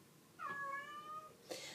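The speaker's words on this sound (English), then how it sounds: "That's a cat." A cat gives one drawn-out, wavering meow, close and clear against a quiet room, followed by a brief sharper noise at the end.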